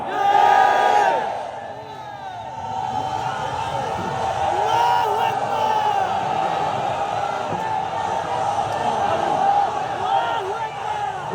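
Massed crowd at an outdoor religious gathering shouting the takbir slogan back in unison, a sustained roaring chant with a louder swell at the start, full and close.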